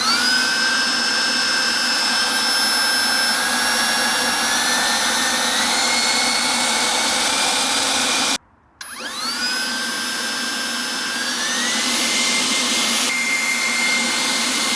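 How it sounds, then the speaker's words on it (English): Kobalt 40 volt brushless handheld cordless electric leaf blower, rated 520 CFM and 120 MPH, running with a loud steady whine whose pitch rises as the trigger is squeezed, then cuts out briefly and spins back up even louder, close and alone. "The tighter you make the trigger here, the stronger the blower will go."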